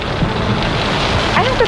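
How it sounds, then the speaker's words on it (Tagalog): Heavy rain pours down as a dense, steady hiss with a windy, watery roar, loud and continuous throughout with no talk. "Lakas ng ulan"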